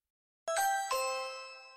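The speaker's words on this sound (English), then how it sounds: "presses the bell, and they hear a voice through the intercom" A doorbell at the gate of a mansion sounds two quick bright chimes close together, each ringing out and slowly fading in otherwise quiet surroundings.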